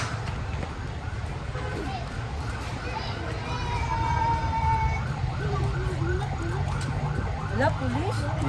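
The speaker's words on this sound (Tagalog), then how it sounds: "Wala, pulis. Ayan. May wangwang." A police siren wails in a rising and falling pattern, faint at first and then growing louder as the vehicle draws nearer, over a steady low rumble of street traffic.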